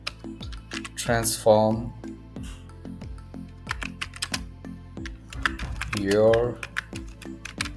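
Steady, close tapping on a computer keyboard as a heading is typed, with quick irregular keystrokes running throughout under a voice that speaks briefly twice.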